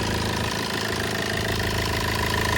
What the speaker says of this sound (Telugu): ఇంజన్ బీటింగ్ చాలా బాగుంది